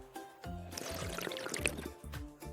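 Water is poured into a glass for a couple of seconds, moderately close and clear, with soft tonal sounds running underneath.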